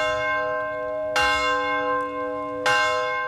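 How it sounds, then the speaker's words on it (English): A church bell in Middletown tolls twice, slow and evenly spaced, each strike ringing out with a long, humming decay. "The church plans to continue ringing the bell until it's no longer needed."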